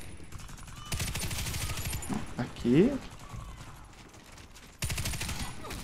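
Machine-gun fire from an M249 Para Gold in the online shooter Warface comes in rapid rattling bursts, separated by short gaps, while a player talks over the action.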